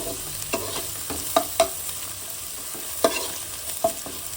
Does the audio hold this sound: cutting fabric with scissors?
no